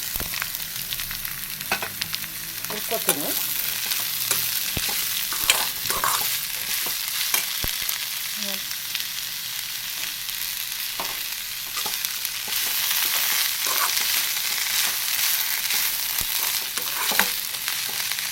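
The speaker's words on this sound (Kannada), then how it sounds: "ಈಗ ಕಾಳಿಗೆ ಒಗ್ಗರಣೆ ಹಾಕಿದ್ವಲ್ಲ ಅದಕ್ಕೆ ಈರುಳ್ಳಿ ಎಲ್ಲ ಹಾಕಿದ್ವಿ ಈರುಳ್ಳಿ ಮೆಣಸಿನ್ಕಾಯಿ" Onions and green chillies fry and sizzle in a hot tempering for cowpea curry, with a steady crackle and frequent stirring scrapes through the whole stretch; no one speaks.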